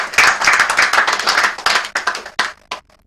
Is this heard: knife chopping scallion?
no